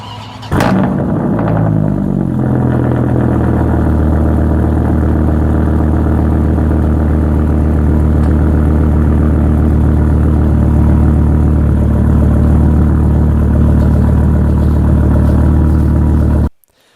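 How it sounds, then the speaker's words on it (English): A Dodge SRT pickup truck's 500-horsepower Viper V10 engine idles steadily and loudly with a deep, rumbling low end, running continuously for the whole stretch before cutting off at the end. "it used the Viper V10 engine at the time, which had 500 horsepower"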